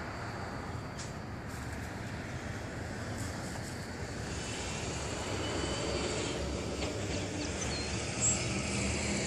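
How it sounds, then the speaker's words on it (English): A Slow Stick RC model airplane's electric motor drones steadily in flight at a distance, a faint, even buzz beneath broad wind noise throughout. "Keep listening for that motor."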